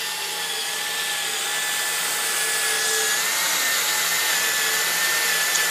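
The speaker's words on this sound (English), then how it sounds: "It's important to try to hold the drill level so that the hole is drilled in the right place" A steady, high-pitched drill whine runs without pause as it bores a hole in aluminum, a continuous motorized hum holding the same pitch throughout with no voices.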